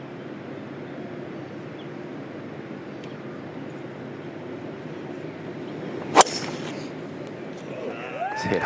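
A golf club strikes the ball off the tee at the first hole of a major championship, one sharp crack midway through a quiet outdoor ambience, followed by faint crowd murmur.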